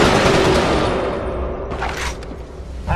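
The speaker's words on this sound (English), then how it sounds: "I'm hearing gunfire from your direction." Sustained gunfire rages in the video game Resistance 2, a dense, loud barrage of rapid shots and bursts with booming impacts throughout, no voices heard.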